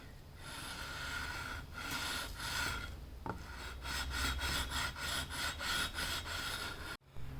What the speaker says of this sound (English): I'll just go over with some sandpaper